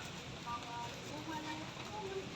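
Steady patter of rain, a dense wash of drops falling continuously, with faint voices murmuring underneath.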